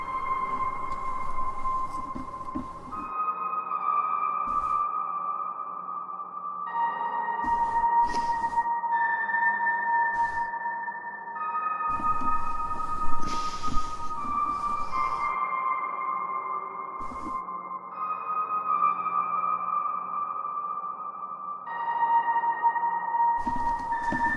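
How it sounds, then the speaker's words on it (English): Slow, sustained piano notes drenched in long reverb ring out one after another, eerie and hollow, with no talking; atmospheric audio for a 3D horror first-person shooter game. "It's literally just a bunch of piano notes with reverb, but I think it sounds pretty creepy."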